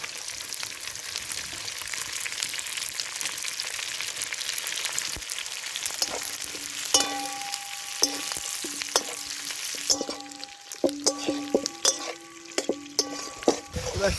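Onion and capsicum sizzle in a pan for village-style dry chilli chicken, a steady hiss at first, then joined by repeated stirring scrapes and metallic clinks of a utensil against the pan.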